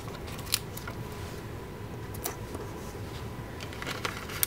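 Scissors snip foiled planner insert stickers, making a few sharp, quiet clicks and cuts spread irregularly across a soft background hiss, close by and with no talking.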